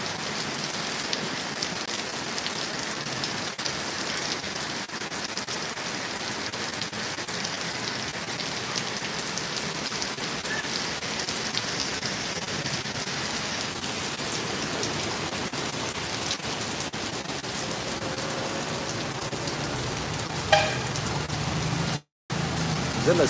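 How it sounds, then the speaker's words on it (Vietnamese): Rain falls on coffee plants outdoors, a dense continuous patter and hiss of drops on leaves and surfaces, steady throughout with a brief dropout near the end. "Mưa được vài phút rồi nhé mọi người."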